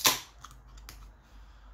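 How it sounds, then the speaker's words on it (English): Cap popped off a bottle of Verdant Don't Fear The Ferryman imperial stout, one quick sharp snap at the start followed by faint clinks and quiet room tone. "let's pop a top."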